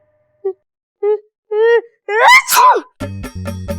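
A person draws several rising, gasping breaths, then lets out one loud sneeze. Music starts right after.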